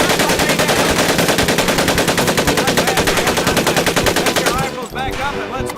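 Tommy gun firing on full automatic in Medal of Honor Pacific Assault, a loud, steady stream of rapid shots for about five seconds before it stops abruptly, leaving a brief echo.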